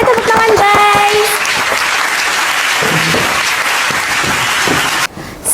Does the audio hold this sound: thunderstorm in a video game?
no